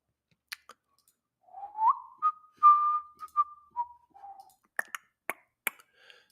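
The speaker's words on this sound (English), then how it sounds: "I'm sorry for whistling." A person whistles a short, wavering melodic tune close by, framed by scattered clicks and taps before and after, with no talking.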